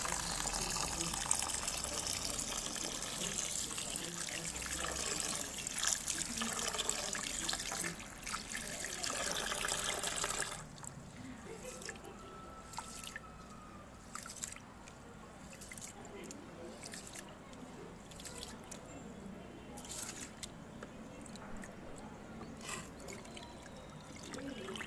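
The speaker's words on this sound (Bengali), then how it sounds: "এখানে চালটা আগে ধুয়ে বসিয়ে দিই" Rice being rinsed by hand in water for a ridged gourd dal meal, with steady running and trickling water and wet squishing grains, louder and continuous at first, then quieter intermittent splashes and swishes.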